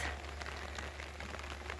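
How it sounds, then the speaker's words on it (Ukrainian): Rain falls outdoors on a warm evening, making a faint, steady patter with a low background hum underneath. No one speaks. "Хоч і дощ іде"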